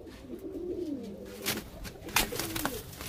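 Caged pigeons released in a loft give soft, low cooing calls, with a few quick sharp flutters or taps toward the end, fairly close and quiet.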